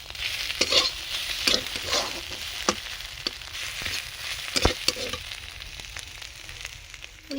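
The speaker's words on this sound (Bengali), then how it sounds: "এইভাবে অল্প আঁচ দিয়ে এইভাবে মশলা দিয়ে শাকটাকে কিছুক্ষণ নেড়ে নেড়ে রান্না করতে হবে" Malabar spinach (pui shak) with spices stirred in a pan over low heat for a Bengali dish, giving a steady soft sizzle broken by repeated scraping strokes of the spatula, close and with no talk.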